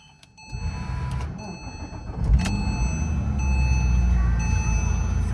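A 2006 Porsche Boxster S with a six-speed manual fires up from cold: a brief starter whir, then the engine catches and settles into a loud, close, high idle that keeps building slightly.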